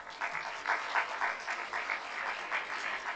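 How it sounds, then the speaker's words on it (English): Steady audience applause at a memorial architecture lecture, a broad, even wash of many hands clapping at moderate distance, sustained throughout without talk. "A round of applause"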